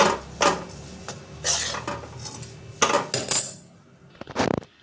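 A spoon scrapes and clatters against a hot kadai, stirring roasted dry fruits, coconut, makhana, sesame and edible gum with the gas off, in several separate bursts with quiet gaps between them.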